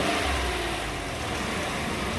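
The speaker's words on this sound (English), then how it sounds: "now the motor is running. We're going to see how it sounds with a little bit of RPMs." A Chevy Silverado truck engine fitted with a new intake runs steadily and is lightly revved, giving a continuous close, even engine roar with no voices.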